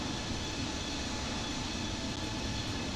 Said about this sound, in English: we'll turn the plane sounds down a little bit so we can talk